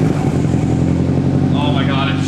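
A car engine idles loud and steady right after a cold first start on a brand-new exhaust, with a deep droning rumble throughout and people talking over it.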